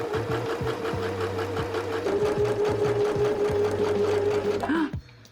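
A sewing machine hemming a jumpsuit runs steadily in a loud, continuous mechanical whir with a rapid stitching rhythm, then stops abruptly near the end.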